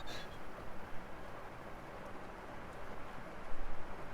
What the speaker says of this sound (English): The sound of the rain makes me want to sleep forever.